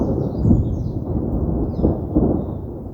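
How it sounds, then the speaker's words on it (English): Thunder rolls as one steady deep rumble, loud and continuous with slight swells, heard alone without any voices. "I love thunder."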